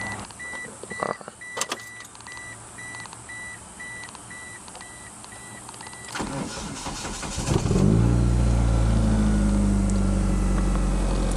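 A fully built Mitsubishi Eclipse with a boosted 2.3 stroker engine sits with its dash chiming in short repeated beeps, then the starter cranks briefly and the engine catches, settling into a loud, steady rumbling idle close by.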